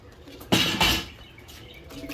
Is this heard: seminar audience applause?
no